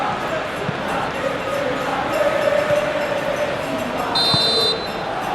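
A referee's whistle blows for half-time at the Spain vs Argentina FIFA World Cup 2026 final. It is a short, clear tone near the end, over a steady crowd roar, with commentators talking through the clip.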